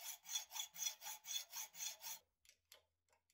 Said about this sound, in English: Yes, sometimes you have to revert to a hacksaw.